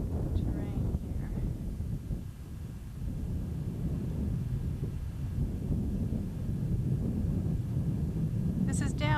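Wind blowing across a hilltop, a continuous buffeting rumble against the microphone, with a person talking briefly over it.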